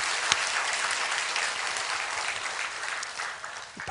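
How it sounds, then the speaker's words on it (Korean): A congregation at a Sunday worship service in a Yangsan church breaks into brisk, full applause, many hands clapping together steadily before tapering slightly at the end. "우리 박수 한번 하겠습니다."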